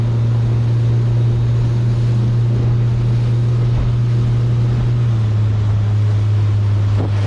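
A motorboat with a huge outboard motor runs close by in 1 to 3 ft waves, its loud steady engine drone holding throughout with wind buffeting the microphone and water slapping against the hull.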